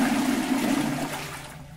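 A repaired toilet cistern flushing on its small flush button, a loud close rush of water that drains steadily and tapers off at the end.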